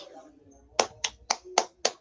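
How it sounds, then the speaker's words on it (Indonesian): Five sharp hand claps in a steady rhythm from a small classroom group during a peer-teaching lesson, close and fairly loud after a short lull with faint background voices. "Kasih tepuk tangan buat Elsa dan Septi"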